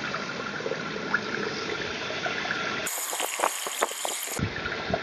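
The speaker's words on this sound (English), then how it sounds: "Just turn the tap off, let some water out, and then you'll see it shrink." Water gushes steadily through an expandable garden hose, then cuts to a sputtering trickle with gurgles and splashes as it drains out, over a constant hiss.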